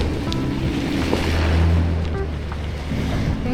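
Ocean surf rolling onto a beach in Bali, a steady broadband wash with gentle swells rising and falling, wind buffeting the microphone, with no voices.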